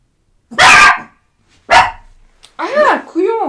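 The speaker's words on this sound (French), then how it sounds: "Y'a rien, c'est les chiens!" Dogs barking in loud bursts, two sharp single barks followed by a run of higher yips and bark-like cries, with a voice shouting nearby.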